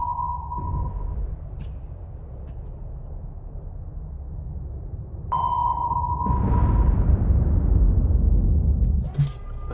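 Naval guns firing a salvo in the War on the Sea naval combat game, heard as a deep booming blast that swells with rumbling low-end roar and lingers, over a steady engine-like drone with a sharp sonar ping before it.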